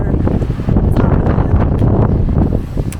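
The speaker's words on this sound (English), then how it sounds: "It is windy," Strong wind roars over the microphone at Cape Sounion near the hilltop Temple of Poseidon, a loud, continuous buffeting rumble with gusty surges throughout.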